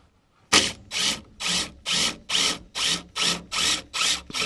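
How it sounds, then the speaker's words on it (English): Power drill boring through two pieces of hard white oak, nine evenly spaced loud bursts of grinding whine with short pauses between, close up and with no talking. "Drill has to think twice about going through both of those."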